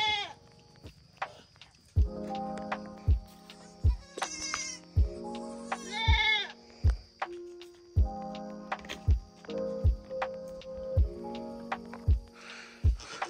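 Repeated bleats from a young goat kid calling for its mother on a hot day at a goat farm in Jhargram, West Bengal, with louder nearby calls coming in a steady series and other farm goats answering faintly.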